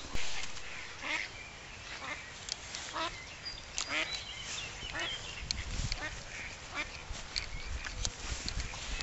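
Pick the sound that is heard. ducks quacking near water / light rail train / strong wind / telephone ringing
ducks quacking near water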